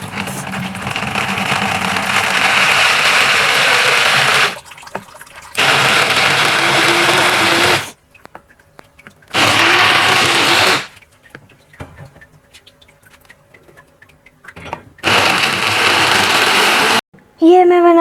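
A kitchen blender whirs loudly in several separate bursts of a few seconds each, blending yogurt and dates into a shake, with short pauses between runs and brief speech in the gaps.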